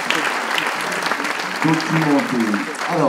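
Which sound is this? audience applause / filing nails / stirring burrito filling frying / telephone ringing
audience applause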